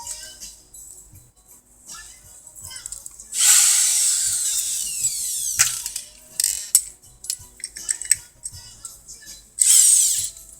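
A power drill whirs in two short, loud bursts, spinning up and winding down, with clicks and clatter of handling between them.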